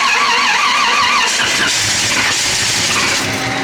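A carbureted engine turns over and fires up in a garage, a loud close-up cranking that catches into a rough steady running drone, with no voices.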